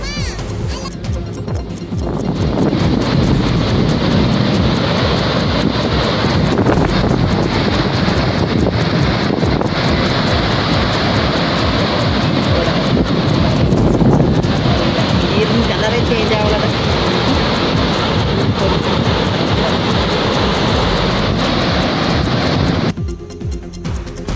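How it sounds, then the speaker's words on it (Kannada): Gaganachukki waterfall at Malavalli in Mandya, swollen with monsoon flow, gives a steady, loud, broadband roar that continues unbroken for over twenty seconds, with wind buffeting the microphone. "ಮಂಡ್ಯದ ಮಳವಲ್ಲಿರುವಂತಹ ಗಗನಚುಕ್ಕಿ ಜಲಪಾತ ಭೋರ್ಗರಿತಾ ಇದೆ"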